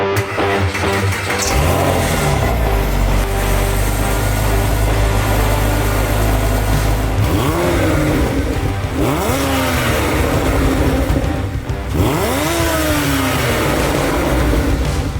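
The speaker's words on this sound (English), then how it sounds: "Yeah, get those revs." A car engine revs hard several times, rising and falling in pitch with each burst, loud and close over a steady idle rumble.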